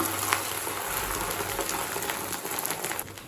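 An egg cooking in hot oil in a pan for a chapathi egg roll makes a loud, dense, continuous sizzle and crackle that holds steady for the whole stretch before easing slightly at the end.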